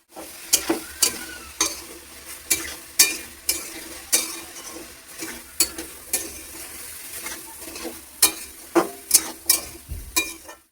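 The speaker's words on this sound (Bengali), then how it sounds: "পিঁয়াজ সাতলানো হয়ে গেল এইবার লাউটা ঢেলে দিচ্ছি" Bottle gourd stirred into sautéed onions in a pan, a steady sizzle broken by regular scraping strokes of a spatula, close and moderately loud, without talk.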